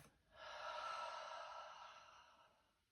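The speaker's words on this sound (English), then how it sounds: "and breathing out through the mouth" During a yoga session, one long, deep exhale is pushed out through the mouth: a soft, breathy rush that swells, holds, then fades over a couple of seconds, close to the microphone and with no talking.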